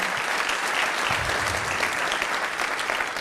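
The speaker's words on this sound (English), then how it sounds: "Please give them a big round of applause." A large audience at a fatherhood event applauds the men on stage with loud, continuous clapping that stays dense and even throughout.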